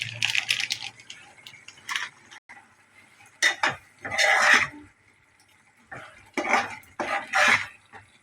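Bottle gourd and dried fish curry gets turned in a pan with bursts of metal spoon scraping and clanking, broken by short pauses, close up and without any speech.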